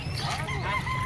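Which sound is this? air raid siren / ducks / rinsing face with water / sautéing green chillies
ducks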